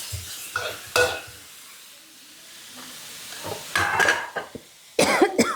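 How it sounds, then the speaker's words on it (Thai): Clams are stir-fried with holy basil in a hot pan, giving intermittent bursts of scraping stirs and sizzling at close range, separated by quieter stretches of soft frying hiss. "ใส่หอยลงไปผัดเลยค่ะ"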